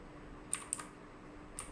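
Computer keyboard typing, a few quick sparse clicks in two brief clusters over a quiet room background.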